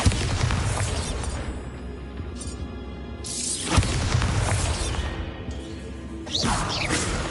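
Repeated Bombarda spell blasts in Hogwarts Legacy, a string of loud booming explosions with whooshing bursts and crashing debris, several sharp impacts spread across the stretch over a busy game soundscape.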